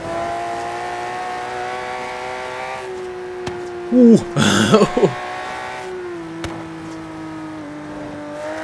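Aston Martin One-77 GT car in Forza Horizon 3, its engine holding a steady drone then briefly revving hard with crackling bursts midway before settling back to a cruising hum; a voice exclaims once.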